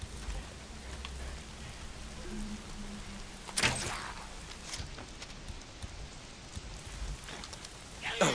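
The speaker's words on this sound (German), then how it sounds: "Mal sind's die Freaks und dann dieser verdammte Regen." In the video game Days Gone, steady rain hisses and patters throughout, with a few sharper splashes and thuds rising briefly above the wash of falling water.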